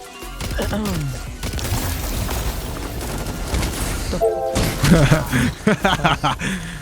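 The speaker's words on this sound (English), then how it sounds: "So I'm getting pelted. He's on rockets right now." Rocket launcher explosions and heavy weapon fire in a Destiny 2 Crucible match: dense, continuous blasts and shots that run without a break, with a brief lull before more sharp, punchy hits.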